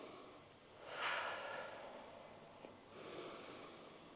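Two audible breaths, drawn in and pushed out through the nose during a mat Pilates squat, close and fairly quiet, with a pause between them and no talking.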